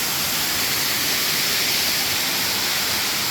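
Steady, dense rush of a waterfall at an old mill dam, a constant broadband roar without pause, fairly close and even in level throughout.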